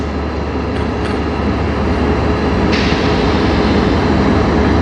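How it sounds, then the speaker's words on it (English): A slow CN manifest freight train led by CN locomotives rolls past in Sarnia, a loud, continuous close-up rumble of wheels and engines with a brief higher whine partway through. "This train's been coming up for a while."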